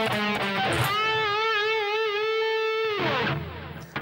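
A distorted electric guitar plays a short solo phrase in tenth position, with a quick run settling into a long sustained note with wide vibrato, loud and up close, no talk.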